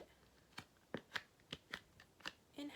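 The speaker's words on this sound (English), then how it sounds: "now we will go ahead and fold the paper like this, the paper plate" A paper plate being folded in half for a craft, heard as a series of quiet crisp crinkles and creases, about seven short sharp rustles spaced irregularly, close and alone.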